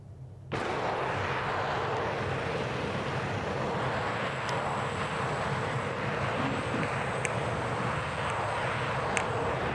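An aircraft flying a circuit overhead, a steady broad roaring drone that starts abruptly and holds at constant loudness, with a few faint chirps over it.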